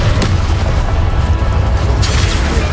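An Incendio fire spell cast in Hogwarts Legacy, a loud deep whooshing boom that rumbles steadily for a few seconds with a sharper burst near the end.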